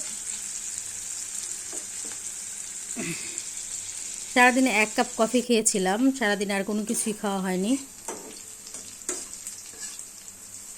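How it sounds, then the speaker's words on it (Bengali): Onions frying in spiced oil in a frying pan, with a steady background sizzle throughout and someone talking over it in the middle. "এই যে পেঁয়াজগুলো ভেজে নিচ্ছি যে মশলাটা তেলে ছিল সেটা দিয়ে ভেজে নিচ্ছি"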